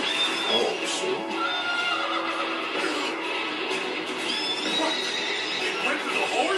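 A horse in an Attack on Titan episode whinnies amid busy action audio, with overlapping speech and other effects running throughout.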